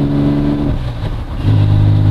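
A Porsche 9ff GT9 sports car's 4-litre twin-turbo flat-six engine idles with a deep burble, dips briefly, then revs up into a louder, steady, throaty roar.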